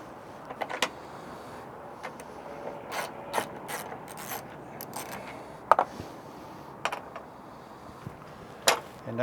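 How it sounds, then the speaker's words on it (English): A 1/4-inch ratchet wrench works a 13 mm bolt loose while a water reservoir is removed from a car, giving scattered short metallic clicking bursts of irregular rhythm, close but fairly quiet, with no talking. "Little 1/4-inch wrench should get it right on out of there."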